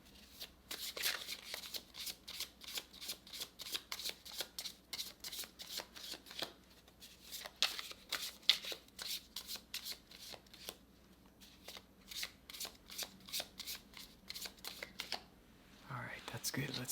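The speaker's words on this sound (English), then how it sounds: "just shuffle a little bit more" Tarot cards are riffled and shuffled repeatedly in quick, crisp bursts, close and fairly quiet, with brief pauses between rounds.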